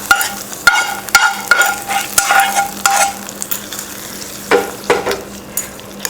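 A hot tempering of ginger, green chilli and curry leaves poured into curd rice, giving a close sizzle with repeated spoon clinks and scraping against the vessel.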